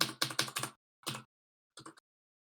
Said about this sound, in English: Sorry for my obnoxiously loud and kind of keyboard.